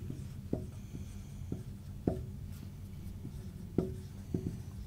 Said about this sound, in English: Draw a line through R which is parallel to PQ.